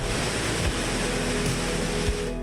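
A constant loud roar of the rain-swollen Kuthungal waterfall in Idukki, Kerala, steady and close, with some wind buffeting and no voices.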